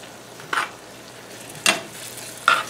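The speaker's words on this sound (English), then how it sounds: "Let me give this another stir. Mix the onion in." Onion being stirred in a frying pan, three separate scraping strokes about a second apart over a soft, steady sizzle, close and moderately quiet.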